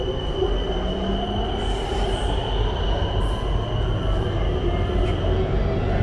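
Bangkok BTS Skytrain on the Sukhumvit line, a steady interior rumble of wheels on rail with a high whining tone and faint squeals, continuous and close, without talk.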